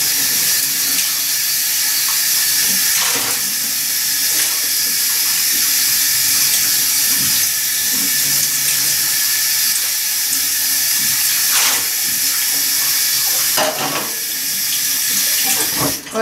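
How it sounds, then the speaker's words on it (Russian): Kitchen tap water runs steadily into a sink while dishes and a cat's bowl are washed with a sponge, a loud constant splashing hiss with occasional clinks. "что я тут одной губкой мою посуду и кошачью миску"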